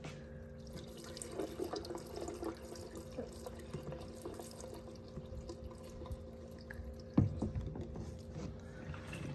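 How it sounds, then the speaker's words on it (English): Gasoline being poured through a funnel into the fuel tank of a turbocharged Chevrolet Suburban, a steady liquid trickle and splash running for several seconds at low level, with a brief louder knock near the end. "let's go ahead and pour some gas in here"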